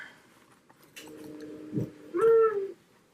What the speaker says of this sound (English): And there's my bird clock. Let's see what time it is.